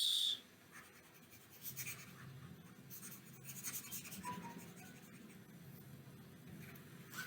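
Pen scratching out math equations on paper or a board, a quiet, close, continuous scraping with brief strokes and pauses, faint against a low room hum, no talking.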